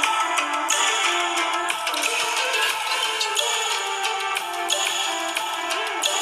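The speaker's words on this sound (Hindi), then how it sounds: "तो यहाँ पे मैं ये गाना आपको प्ले करके सुनाता हूँ।" Music plays continuously through the small, bright, thin-sounding speaker of an Apple iPhone 13 Pro Max at a steady level, with no talking.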